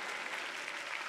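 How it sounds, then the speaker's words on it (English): Brief, faint patter of a small audience clapping during a church sermon, soft and distant, continuing for about a second. "I love it when you get three people clapping."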